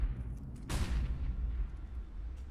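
An HE grenade detonates in Counter-Strike: Global Offensive during a Mousesports versus FaZe match at the PGL Major Krakow 2017, one heavy boom bursting out of a low rumble and decaying slowly, with no talk.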